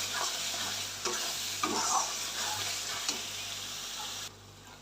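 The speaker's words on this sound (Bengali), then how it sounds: "এখন ভালোভাবে মশলাটা কষিয়ে নেব" Spice paste for a spicy chicken curry fries in hot oil as it is stirred, a steady close sizzle with soft scraping strokes of the spoon and no talking.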